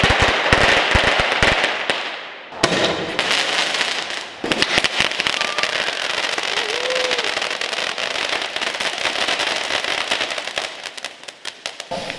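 A dense barrage of firecrackers bangs and crackles continuously at night in a street in Fuqing, China, loud and close, with a brief lull before the rapid popping resumes.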